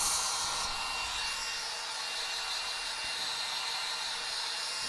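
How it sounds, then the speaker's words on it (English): A steady, airy whoosh of a hair dryer blowing continuously at close range, fairly soft, with no voices. "I'm going to get my hair dryer, my trusty hair dryer, and blow dry this"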